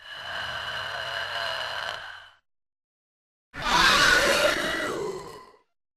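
A Licker enemy from Resident Evil 2 lets out two harsh, breathy, rasping vocal bursts separated by a brief silence, the second louder and more gravelly, with no other sounds around it.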